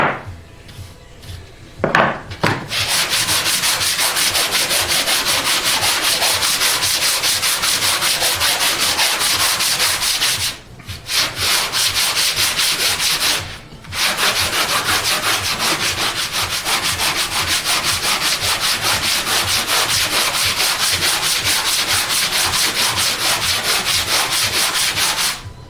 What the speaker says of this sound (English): I'm going to sand this mahogany.